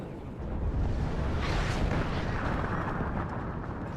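Artillery and mortar fire in the Cold War strategy game WARNO, a dense continuous rumble of heavy blasts with a sharper burst standing out midway, loud and rolling with no voices.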